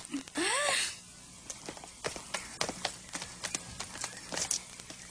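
Hooves of a horse clip-clopping in an animated Cinderella episode, a steady run of sharp, fairly close knocks following a brief loud whoosh at the start.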